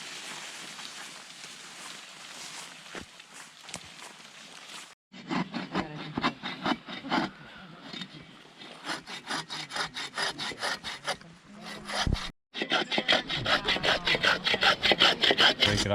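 Dead wood is cut for firewood deep in a forest at a canoe camp in Quebec, with rhythmic back-and-forth sawing strokes up close and short breaks between bursts.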